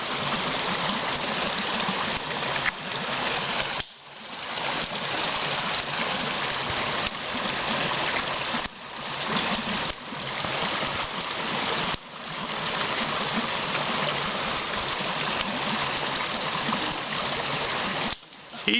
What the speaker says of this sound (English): that is Andy trying to cross the roaring tide of the creek